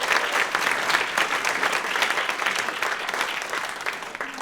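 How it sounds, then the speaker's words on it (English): Audience at a chamber of commerce installation and awards gala applauds winners and nominees, a sustained dense round of clapping from a large crowd, fairly loud and continuous. "let's please give all of tonight's winners and nominees one final round of applause"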